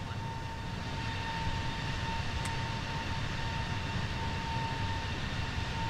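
An Airbus A321neo jet takes off in Microsoft Flight Simulator 2, a steady, broad engine roar with a thin whine, held at an even moderate level throughout.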